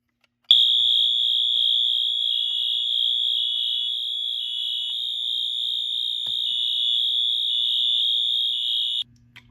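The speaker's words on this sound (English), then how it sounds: "activate the smoke detector by just spraying some smoke" A shrill smoke detector alarm, set off by sprayed test smoke, blares steadily and loudly for nearly nine seconds with a slight pulsing wobble, then stops.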